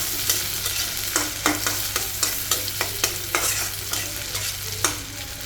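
Onions fry in mustard oil in a home kitchen, with a steady sizzle and regular scraping strokes of a spatula stirring the pan. No one speaks.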